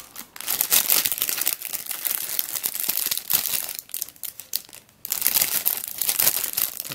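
Sticker sheets for speedcube puzzles, Dayan-branded, being unwrapped from plastic packaging, giving a continuous close crinkling and crumpling with brief tearing bursts and a short pause near the end.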